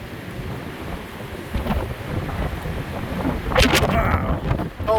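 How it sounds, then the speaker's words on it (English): Strong storm wind blows along a coastal road by Pebble Beach, buffeting the microphone with a rough, continuous rumble that swells into louder gusts toward the end, with a voice briefly under it. "It is really blowing, storming."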